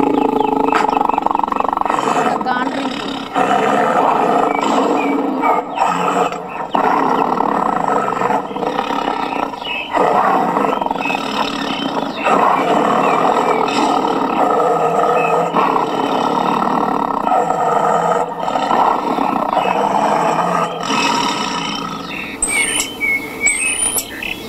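A crop-protection device on farmland near Rajendranagar, Hyderabad plays recorded tiger roars, loud and continuous, as repeated growling roars blend into one another with faint bird chirps in the background.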